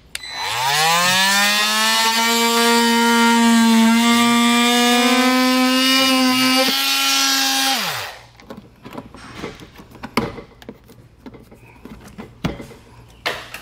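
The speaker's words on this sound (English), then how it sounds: "I'm gonna be using just an oscillating tool here" An oscillating tool cuts through the plastic bumper fascia of a 2022 Ford Explorer, a loud, steady high buzzing whine for about eight seconds that stops abruptly, followed by faint clicks and handling noises.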